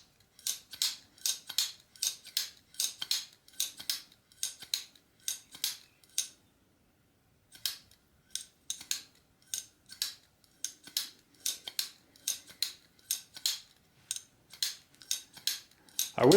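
A coated ADV Pitboss 2 knife makes repeated crisp snipping cuts in a steady rhythm. The cuts come in quick bursts, pause briefly about a third of the way through, then resume, loud and close.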